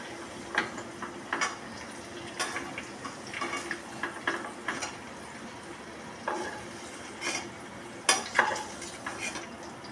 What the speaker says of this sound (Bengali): চিকেনটা ভাজা ভাজা হয়ে গেছে, আমি চিকেনটাকে এবার তুলে নিচ্ছি।